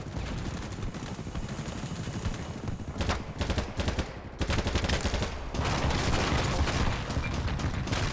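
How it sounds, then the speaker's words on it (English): Rapid, continuous gunfire from a video game, with dense bursts of automatic fire and overlapping shots that stay loud throughout, rising in intensity in the final seconds. "There's so much shooting."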